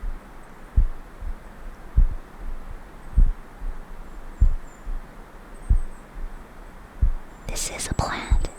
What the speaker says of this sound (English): the sound this plant produces while it's growing sounds like a heartbeat